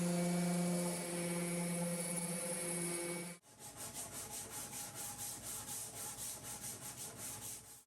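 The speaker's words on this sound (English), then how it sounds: "Sanding all of the legs with 120 and the final sanding of the shelves." Steady rhythmic rubbing of 120-grit sandpaper on wooden furniture legs, close and fairly loud, with regular back-and-forth strokes after a brief burst of whirring machine noise at the start.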